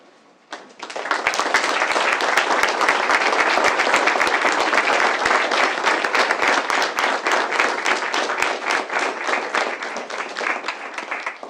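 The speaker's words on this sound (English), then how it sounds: "would everyone please stand for one last round of applause?" A standing room at a town board of commissioners meeting breaks into one last round of applause, dense and steady for about ten seconds before slowly thinning, with no talk.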